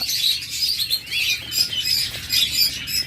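Caged birds, including king quail and lovebirds, chirp continuously in a busy, overlapping chorus of bright, high tweets, close and fairly loud with no talking.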